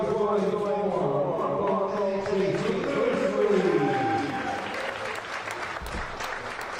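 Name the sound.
crowd applause at boxing championship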